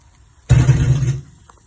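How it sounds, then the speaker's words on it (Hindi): Water is poured into a pot of meat and spices as karela gosht cooks, a single loud splashing gush lasting under a second, close and alone before it tails off. "आधा कप हमने और ऐड कर दिया है पानी का इसके अंदर"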